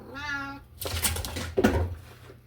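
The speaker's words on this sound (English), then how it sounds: "I got an unhappy cat." An unhappy cat meows loudly once in a drawn-out, wavering cry, followed by bursts of rustling and clattering in a kitchen where caramel popcorn is being made.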